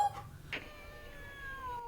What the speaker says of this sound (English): she hears the distant, sad meow of Kitty Claude